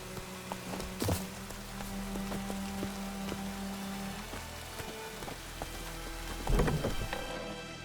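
Rain in The Witcher 3: Wild Hunt, a steady patter of drops falling on surfaces with a low rumble of thunder underneath and a few louder knocks, no voices over it.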